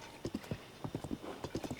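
Horse hooves clip-clop in a steady trotting rhythm, close and moderately loud, in the Tears of the Kingdom video game, with a brief whinny-like tone mixed in and no talking.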